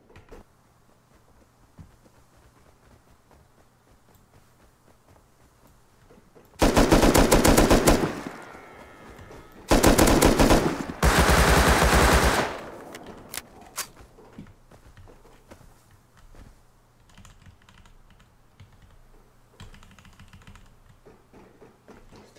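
AK rifle gunfire in the video game Rust rips out in three loud automatic bursts of a second or two each, separated by short pauses, over faint keyboard clicking and quiet background game noise.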